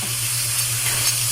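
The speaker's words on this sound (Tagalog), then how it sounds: "Igisa natin siya ng igisa, mga kalangga." Crab sizzling as it is sautéed and stirred in a hot pan for a spicy coconut-milk dish, a steady close frying hiss with a low constant hum beneath and no talk.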